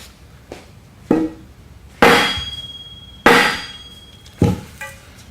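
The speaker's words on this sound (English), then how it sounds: "Then what we're going to do is hit it with a 4x4, and what that'll do is free up the upper spindle." Heavy wooden 4x4 striking the spindle of a CS-1 sifter, five separate blows about a second apart, each a loud close metallic clang with a ringing tail that fades before the next hit.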